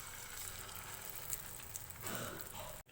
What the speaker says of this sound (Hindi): अब हम इसके अंदर फ़िश फ्राई करेंगे जो हमने मैरिनेट करके रखी थी।